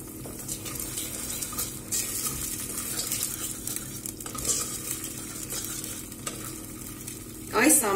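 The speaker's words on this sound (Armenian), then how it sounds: "ալյուրը բացելուց հետո լավ հարում ենք, որպեսզի գնդեր չլինեն" Flour being stirred into fried onions in a pan for a red bean dish, giving a steady sizzle with scraping spoon strokes throughout and a brief louder clatter near the end.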